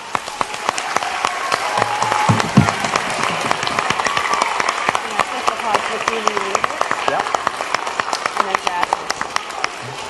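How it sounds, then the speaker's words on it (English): A large crowd applauds steadily, dense clapping sustained throughout with a few louder claps standing out near the start. "give yourselves a big round of applause"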